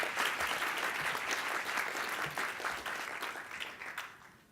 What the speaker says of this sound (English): please give her a warm round of applause.